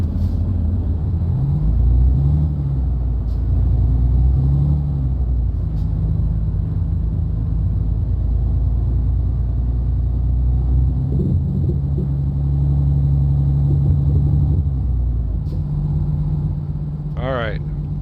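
An Euro Truck Simulator 2 truck pulls away with its parking brake off, its engine a steady, loud low rumble that shifts slightly as it moves, while someone talks over it throughout.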